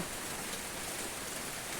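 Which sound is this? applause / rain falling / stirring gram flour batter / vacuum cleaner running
rain falling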